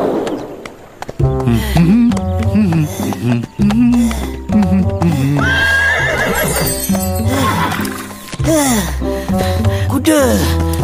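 A horse neighs and whinnies repeatedly in a Malay folktale about a horse and a donkey, loud and close, with breathy gasps and sighs between the calls.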